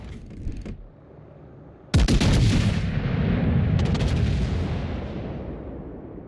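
A battleship's 457 mm main guns fire in a naval combat video game: a faint boom early on, then one loud, sharp salvo with a heavy rumbling roar that slowly fades, and a crackle of further reports partway through.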